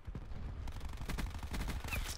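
Submachine gun fire in the video game Call of Duty, an MX9, comes as a quick, muffled rattling burst of rapid shots lasting about two seconds.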